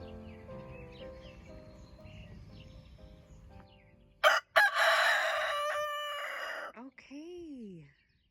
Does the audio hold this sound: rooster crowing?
yes